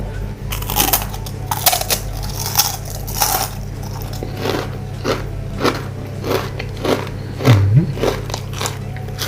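Crunching bites into large crispy baked okra chips, close to the microphone, a series of sharp crackling crunches spread irregularly over several seconds with no talking.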